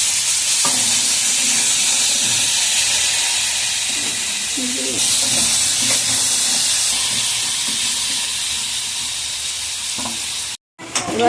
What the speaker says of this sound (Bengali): এবার আলুটাকে লাল লাল করে ভেজে তারপরে আমি মাছের রেসিপিটা বসাবো